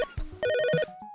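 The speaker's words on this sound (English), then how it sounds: "I was cleaning our house when my phone started ringing." A phone rings with a short electronic ringtone of bright, rapid repeating tones, heard clearly and alone over a brief musical backing.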